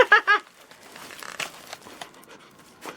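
A pet dog chews and crinkles Christmas wrapping paper up close, with a burst of panting at the start followed by scattered soft crackles and tearing crunches.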